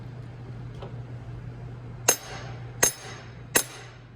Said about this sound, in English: Rolled out just a little bit, so I can give it a little tap.